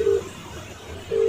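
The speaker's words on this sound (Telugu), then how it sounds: "మా పెద్దమ్మ ఫోన్ చేస్తున్నా" A phone dials out to call a relative, with two short steady keypad tones, one at the start and one at the end, separated by a brief quiet gap.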